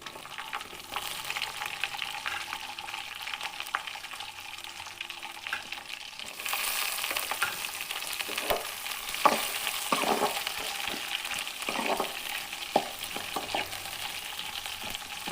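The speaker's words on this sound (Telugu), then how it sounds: "తర్వాత ఇందులో కరివేపాకు వేసి, తర్వాత ముందుగా తరిగి పెట్టుకున్న ఆనియన్స్," Curry leaves and chopped onions fry in a pan with a steady close sizzle. Once the onions go in, the sound swells and is broken by scraping stirs.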